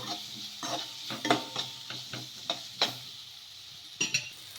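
A snack mix gets stirred in a pan with a packet of Maggi masala powder, producing a series of scraping, clinking spoon strokes at an uneven pace over a faint sizzle, close and fairly quiet.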